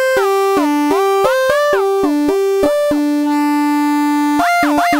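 An Ensoniq EPS sampler plays a SAW/DUST waveform as a string of short synth notes whose pitch glides between steps, clear and up front, with one long held tone near the end.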